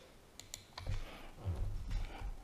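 Typing on a computer keyboard: a faint, close flurry of soft key clicks in an irregular rhythm, heard alone without speech.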